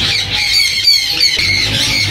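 Raw parrots at a Sunday bird market in Bahawalpur, shrill squawks and squeals overlapping continuously, loud and close with a busy crowded feel.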